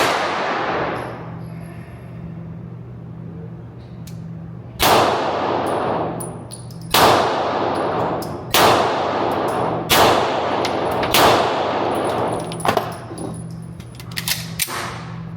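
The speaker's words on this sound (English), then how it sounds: "Now we're going to shoot the Beretta, first time since rebuilding it." Beretta 92 pistol fitted with a Wilson action kit fires about six sharp, loud shots at uneven intervals, each with a quick crack and short decay over a low steady hum, no talking.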